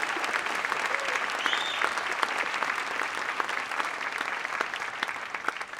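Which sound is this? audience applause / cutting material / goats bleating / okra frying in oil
audience applause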